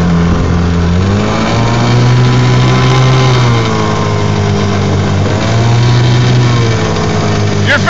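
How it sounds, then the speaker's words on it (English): A motorboat engine runs steadily and loudly throughout on the Susquehanna River, its pitch shifting slightly as the throttle changes. "his boat running"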